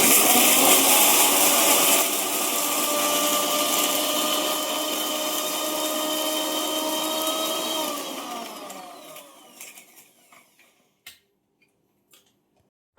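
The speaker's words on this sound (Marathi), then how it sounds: "मिक्सरचं भांडं लावले मिक्सरला त्यात थोडं पाणी टाकलेलं आहे कमी पडलं तर मी परत टाकेल त्यात आता हे दळते मी" A mixer grinder whirs loudly and steadily as it grinds roasted masala with a little water, then winds down and stops, followed by a few faint clicks and knocks.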